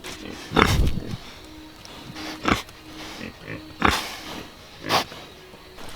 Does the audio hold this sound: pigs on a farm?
yes